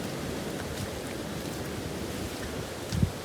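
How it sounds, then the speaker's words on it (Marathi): Heavy rain pouring beside a swollen river, a dense steady hiss that fills the whole stretch, with one short low thump near the end and no voices. "हे बघा लई फुल पाऊस पडतो."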